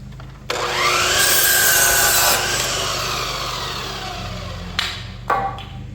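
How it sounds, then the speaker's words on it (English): A miter saw squares the end of a wooden board for a deer blind build. The blade cuts loudly for about two seconds, then spins down over several seconds, followed by a couple of knocks. "So we'll cut our end, make sure we got a square end with a miter."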